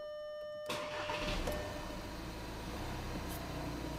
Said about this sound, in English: I'm now going to crank and idle the engine.